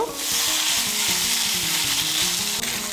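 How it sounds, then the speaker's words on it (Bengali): Potatoes and pointed gourd fry with ground spice paste in a pan, giving a loud, steady sizzle with stirring scrapes throughout, close and continuous with no talk. "আলু আর পটলটাকে মশলার সঙ্গে একটু কষিয়ে নেব।"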